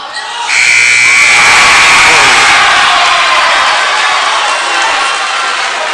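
Game-ending buzzer at a Minnesota boys high school basketball game in a gym, a long loud steady tone over a cheering, shouting crowd for about two seconds, the crowd roar continuing after it stops.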